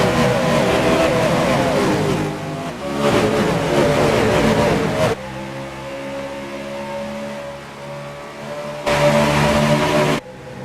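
Race cars roar and accelerate at the green flag in a heat race at the NORDTONA 500, loud engines rising in pitch in overlapping waves, swelling and dropping as cars pass.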